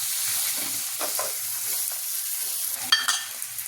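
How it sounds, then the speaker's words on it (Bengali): Onions frying in oil while being stirred for a pabda fish oil-chilli curry, a soft close sizzle with scraping spatula strokes and a sharper clatter near the end. "ভাজো লাল লাল করে পেঁয়াজটা"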